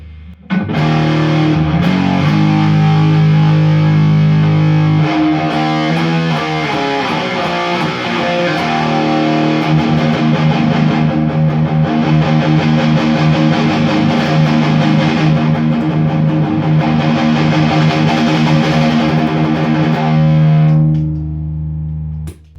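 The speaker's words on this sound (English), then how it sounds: "want to see if I can use it as a distortion pedal" Heavily distorted electric guitar, played through a distortion pedal with high gain, plays sustained chords and riffs, loud and saturated, ringing out before fading at the end.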